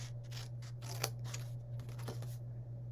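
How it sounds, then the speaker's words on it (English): Scissors snip through card up to a score line in a craft setting, with a few short close cuts over a steady low electrical hum, and no one speaking. "So I'm going to cut up to the score line,"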